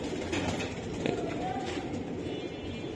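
A female racing pigeon gives soft, low cooing up close against a faint, busy background.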